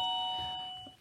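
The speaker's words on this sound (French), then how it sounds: "Une petite sonnette." A battery-powered wireless doorbell from the Action store gives a single bright electronic chime that rings out near and clear, then fades over about a second.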